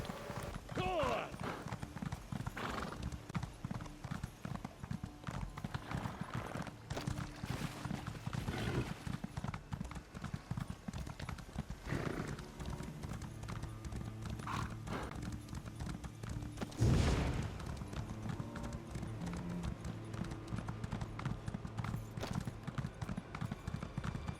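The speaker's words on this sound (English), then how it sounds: "I'll just get my horse." Horse hooves clop in a steady trotting rhythm in the video game Elder Scrolls Online, with game-like ambience, a brief whinny and someone speaking over the footsteps.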